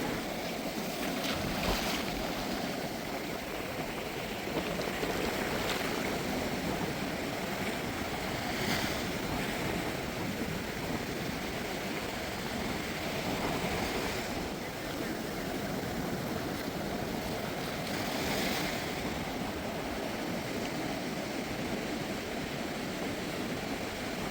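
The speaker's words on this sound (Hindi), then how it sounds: "नीले समंदर की उठती गिरती लहरें और उनकी मधुर आवाज़" Continuous roar of sea waves washing ashore at Dhanushkodi, with surges every few seconds and wind buffeting the microphone.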